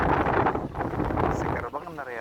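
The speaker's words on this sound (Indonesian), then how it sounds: "di sini kondisi angin gede, terus ombaknya lumayan ya, agak ekstrim" Strong west wind roars across an offshore fishing platform at sea amid fairly rough waves, a loud, steady buffeting rush that fills the whole stretch.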